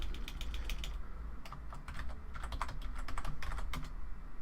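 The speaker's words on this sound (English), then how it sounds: "Oh, it's just not my day for typing." Typing on a computer keyboard during a modded Minecraft session, quick uneven bursts of key clicks with short pauses between runs, close and fairly quiet, with no talking.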